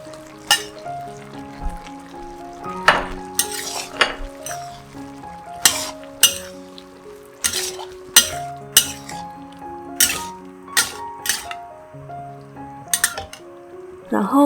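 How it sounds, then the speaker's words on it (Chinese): A spatula clinks and scrapes against a pan while vegetarian sweet and sour pork is stir-fried, giving a run of irregular metallic taps over a soft sizzle, close and fairly clear. "倒入咕噜肉，炒一炒。"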